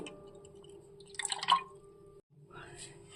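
Water splashes and drips into cornflour batter in a short burst lasting about half a second, with a low steady hum underneath and a quieter clatter afterwards.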